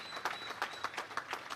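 Audience applause at a Guyana Defence Force annual event, a short burst of scattered hand claps, fairly faint and distant in a large room.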